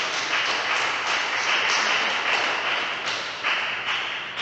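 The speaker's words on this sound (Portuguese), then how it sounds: "dê uma salva de palmas para Jesus bem alegre" A church congregation bursts into joyful applause, a dense, steady wash of many hands clapping close by that holds evenly for the whole stretch with no voices on top.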